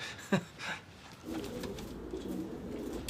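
Racing pigeons coo close by in a few soft, throaty calls, followed by a low, steady murmur of cooing and faint background hum.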